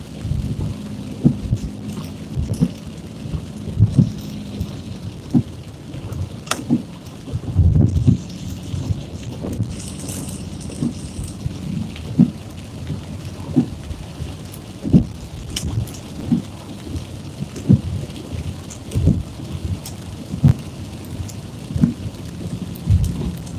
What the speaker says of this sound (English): Looks like the rain's letting up a little bit.